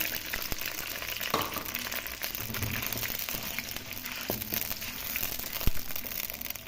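Browned onions in a pan sizzle and crackle steadily after water is poured in for jaggery rice, a continuous frying hiss with a few small clicks and stirring knocks.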